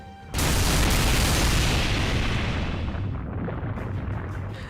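A heavy explosive barrage in the game Fate/Grand Order erupts with a loud booming blast, then a long rumbling roar that slowly fades.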